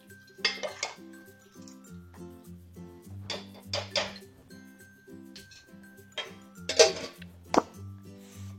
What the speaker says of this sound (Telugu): ఇప్పుడు ఒకసారి కలిపేసుకొని మూత పెట్టేస్తే సెట్ అయిపోతుంది